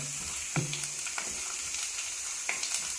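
Grated coconut roasting in a pan for a beef curry, a soft steady sizzle broken by a few distinct scrapes and taps of a spoon against the pan, close by.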